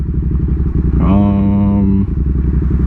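A motorcycle engine runs close by with a steady throaty drone, and its pitch climbs into a sharper whine for about a second in the middle before settling back.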